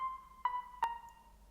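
A scary siren sample from a Kontakt library plays faintly and alone: a sustained eerie tone with two short swelling accents.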